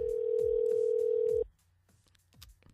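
A radio-show phone line connecting to a caller: a steady electronic tone sounds alongside repeated ring pulses, then stops abruptly and gives way to faint line noise.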